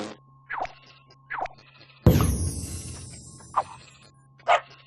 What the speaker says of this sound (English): We always thought Elderflower the cow was barking.